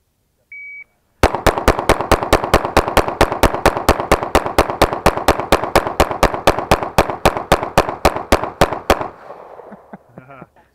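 Rapid pistol fire on a timed shooting competition stage: a short timer beep, then some thirty sharp, evenly spaced shots in quick succession over about eight seconds, loud and close, ending abruptly.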